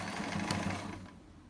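A sewing machine runs a brief reverse stitch across fabric on a chair pouch, a soft, close, even whirr that fades out after about a second.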